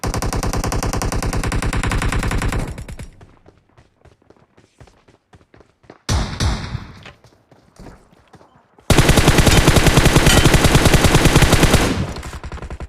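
Automatic gunfire in the battle royale game BGMI, with long, loud, rapid bursts at the start and end, separated by quieter stretches of scattered shots and movement.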